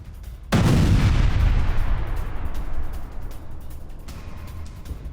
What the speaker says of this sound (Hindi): रूस के बहुत बड़े वेपन डिपो पर धमाका